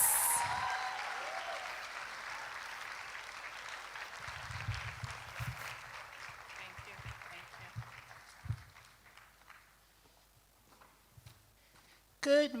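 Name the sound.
conference audience applause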